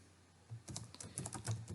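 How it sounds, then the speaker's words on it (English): A short burst of typing on a computer keyboard: about a dozen quick, light key clicks in an uneven rhythm, close and quiet, with no voices. "Suppose I will type here"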